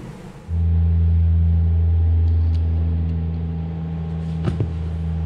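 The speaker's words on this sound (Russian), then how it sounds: "Блин, Ту-95 что ли?" A Tu-95 aircraft passes overhead with a deep, steady low-frequency drone that swells in quickly and holds loud and continuous, heard outdoors in light rain with no speech.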